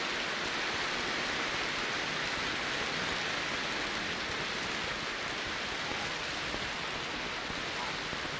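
Steady rain falls without pause, a dense even hiss of drops that holds at the same level throughout, with no distinct voices standing out above it.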